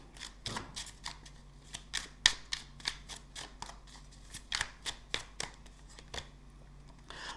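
Tarot cards shuffled and riffled by hand, a quiet run of crisp, papery flicks and snaps in an irregular rhythm, close up with no talking.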